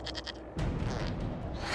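A goat thrown as a weapon by a Chasind man attacking a building in Dragon Age: Inquisition, giving a short bleat that is cut off by a loud, dense crash of impact and debris.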